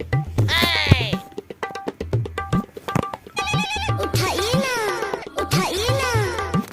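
A telephone rings with a warbling electronic tone in several repeated bursts, mixed in with background music and other sounds.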